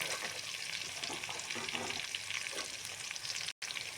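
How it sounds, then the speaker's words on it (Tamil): Capsicum frying in a pan for egg fried rice, with a steady close sizzle and a few soft stirring scrapes. "கேப்சிகம் போட்டு கேப்சிகம் வந்து ஓரளவுக்கு அரை வேக்காடை வந்து வேகட்டும்."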